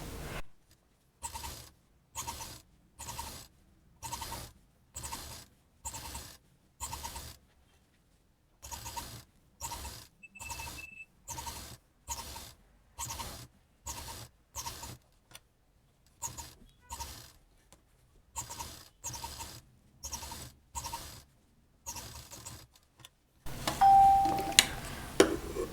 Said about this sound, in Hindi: तो अब इसमें हम दाब मशीन चला देते हैं।